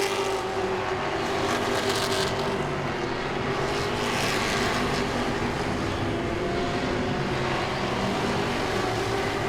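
Grand stock race cars circle Langley Speedway in a steady, loud roar of engines, with the sound swelling slightly as cars pass, heard from trackside without any talk.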